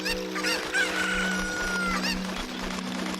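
Chickens in the video game The Legend of Zelda: Ocarina of Time, busy clucking and squawking with a crowing call, loud and close over a steady droning game background.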